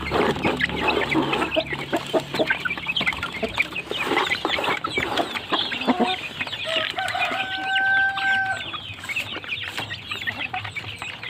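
Chickens of the Kuntara F1 rooster breed cluck and call continuously while eagerly eating boiled ground corn feed, a busy overlapping flock chorus with a few sustained crowing notes near the end.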